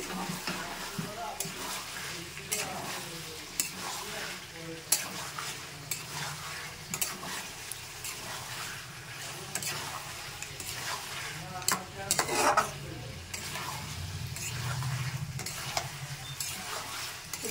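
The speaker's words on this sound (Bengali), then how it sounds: "চিকেনটা দিয়ে কিন্তু আমি মশলাটা কষিয়ে নেবো" Chicken being stir-fried with spice masala in a pan, loud sizzling mixed with repeated spatula scrapes and clinks against the pan, busy and close throughout.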